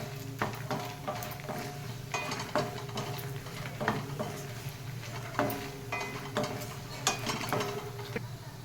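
Tamarind stirred into a frying pan (kadai) while cooking munagaku karam podi: a steady scraping stir with light sizzling and repeated spoon-against-pan clinks, close and continuous.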